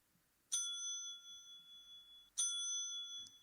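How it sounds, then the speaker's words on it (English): A hotel desk bell is struck twice, two bright ringing dings about two seconds apart, each sustaining a clear metallic tone, fairly quiet and close with no talk. "that was our hotel desk bell"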